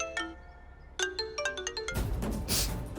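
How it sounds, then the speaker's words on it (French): A telephone rings with a bright, electronic chiming melody of quick repeated tones, fairly faint and close, followed by a burst of broader noise as the ringing ends. "Le téléphone."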